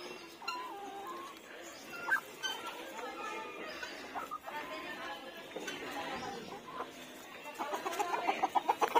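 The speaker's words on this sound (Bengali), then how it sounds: "এই বাচ্চা মুরগিগুলো এগুলাকে ঠকাচ্ছে, এই দুইটাকে" Hens and young chicks cluck and cheep steadily at close range in a backyard poultry setting, with a burst of louder clucking near the end, beneath occasional talking.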